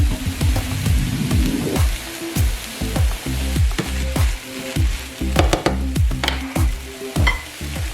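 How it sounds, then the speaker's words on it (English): Zucchini and green onion sizzle loudly in a skillet of turkey burrito mix, a dense crackling hiss studded with frequent sharp clicks and scrapes of a spatula moving through the pan. "now I'm going to add the zucchini and half of the green onion"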